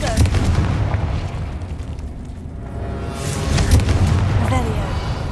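Explosive bursts from the Confringo fire spell in Hogwarts Legacy, two heavy booms with crackling tails, loud and close, separated by a quieter stretch.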